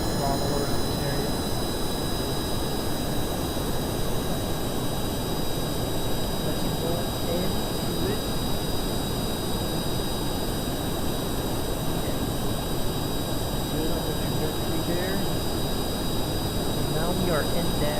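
A rocket engine at full throttle in Kerbal Space Program gives a steady, loud, continuous roar that holds unbroken throughout, with a person talking over it.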